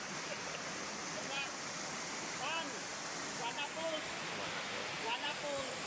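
Steady broadband rush of Wana Falls waterfall fills the scene, with faint birdsong chirps scattered over the constant roar.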